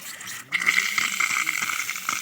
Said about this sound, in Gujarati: તો અટાણે પાણી આવે છે